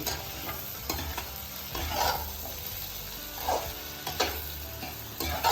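Potato and bitter gourd sabzi frying in a pan, with a soft continuous sizzle and periodic scraping stirs of a spatula every second or so, close and moderately loud, with no talking.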